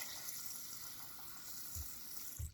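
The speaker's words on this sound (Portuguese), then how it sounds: "colocar num copão assim, ó, enche de água" Water running from a tap to fill a large cup for washing makeup sponges, a steady close hiss of flowing water with a couple of soft low thumps.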